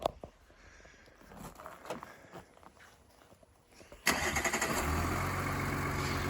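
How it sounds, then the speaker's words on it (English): A car engine started by remote start cranks and catches abruptly, then settles into a loud, steady idle close by, preceded by quiet footsteps and handling sounds. "Car will now start."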